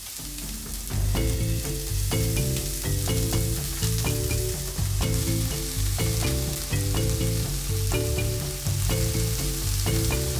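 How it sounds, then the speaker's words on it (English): Onion sweats in a pot as the base for a chicken, sausage and butternut squash stew, with a steady frying hiss running beneath loud, rhythmic background music. "I want to sweat this onion, start developing the flavors for our dish."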